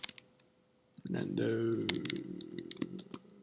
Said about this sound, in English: I'm going to type in my email here